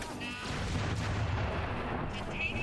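A grenade blast in the video game Crackdown 2, a deep rumbling boom that swells and lingers for a couple of seconds under faint game sounds.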